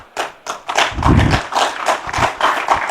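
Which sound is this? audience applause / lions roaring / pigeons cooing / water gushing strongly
audience applause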